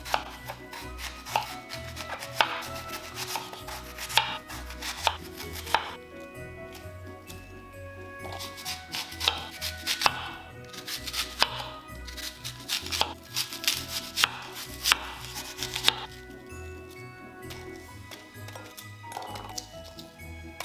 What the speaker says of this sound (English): we'll cut them up, throw them in the bowl